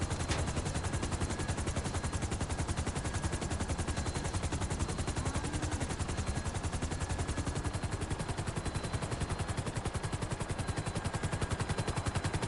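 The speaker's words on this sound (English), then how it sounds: "This is how NPCs shoot." Gunfire in the video game GTA 5, a dense, continuous rapid rattle of automatic shots at steady loudness with no pauses, and a faint aircraft-like drone underneath.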